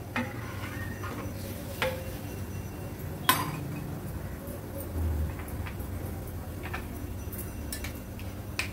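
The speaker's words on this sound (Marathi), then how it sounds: "मिक्स करून घेते व्यवस्थित" A spoon stirs Karli fish curry thinned with water in a metal pot, making soft scraping and light clinks against the sides, with one sharper knock partway through over a quiet background.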